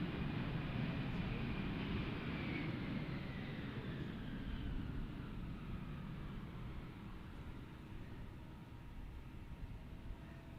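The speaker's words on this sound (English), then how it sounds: "here goes our A321 from American Airlines to Dallas" An American Airlines A321 jet airliner departs Tucson International Airport, its broad distant roar with a faint descending whine slowly fading as it climbs away.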